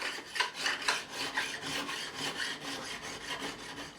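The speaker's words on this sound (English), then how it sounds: "I'll just come across the whole length of the neck, just on this 3" blade at the end here, the flat bit." A 3-inch flat file rasping by hand along the fret ends of a Japanese-made Squier Stratocaster neck during a re-fret, in steady close strokes with a dry, gritty scrape and no voices.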